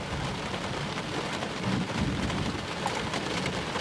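Heavy rain pours steadily through a severe lightning storm in Cambridge City, Indiana, a dense continuous wash with low rumbling thunder underneath and no voices.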